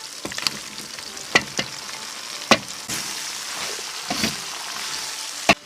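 Mutton offal is stir-fried with dried chilies in a pot, a continuous hissing sizzle broken by sharp, irregular clinks and scrapes of the spatula against the metal.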